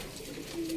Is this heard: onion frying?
no